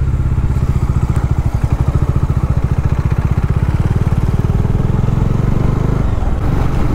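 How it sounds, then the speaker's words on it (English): A Bajaj Dominar 400 motorcycle cruises a bumpy four-lane cement highway, its engine droning steadily under a constant rumble of tire and road noise, close and loud throughout with no talking. "I basically don't like cement road because the ride will be too bumpy and you can hear a lot of tire noise"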